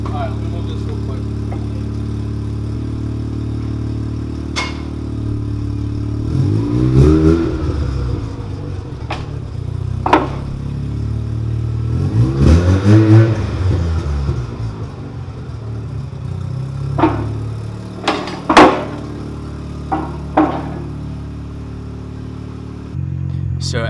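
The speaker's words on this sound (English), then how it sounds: "as you can hear, the car is much quieter" A Mazda RX-7 rotary engine with a new, quieter exhaust idles steadily, then revs up twice in swelling bursts, with scattered clicks and knocks and a person speaking at times.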